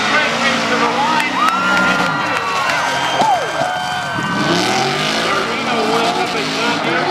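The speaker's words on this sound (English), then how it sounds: "Coming out of turn number 4. Straight race to the line." Race cars at a speedway short track roar side by side toward the finish line, with a loud, steady engine drone and rising and falling pitch as they pass. Tires squeal, a crowd is audible, and an announcer talks over the noise.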